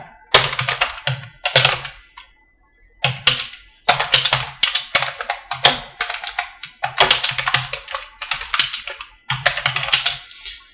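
Typing on a computer keyboard while entering a title into a Google Form, heard as close, busy bursts of clattering keystrokes separated by short pauses, with no talking.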